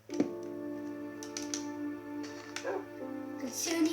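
A puppy whimpers and lets out small yips, high thin whines rising and falling close by, with soft background noise and a few brief clicks.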